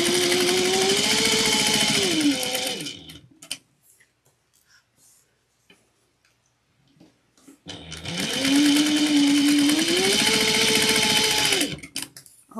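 A sewing machine top stitching one-eighth of an inch down both sides of a zippy bag runs in two long, loud, steady bursts separated by a quiet pause with small handling clicks.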